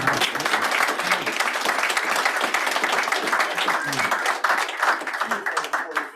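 Applause at an annual general meeting of a board as the president attends his last meeting, a dense wash of clapping from a room of members with voices mixed into it, steady throughout.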